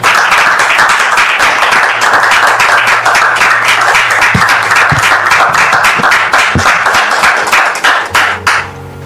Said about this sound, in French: je voudrais qu'on reçoive encore sous vos applaudissements Dame Priska